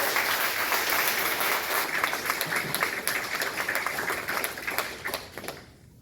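Audience at a Frederick County Republican Committee Senate candidate forum gives the candidates a sustained round of applause, dense and steady, fading out toward the end.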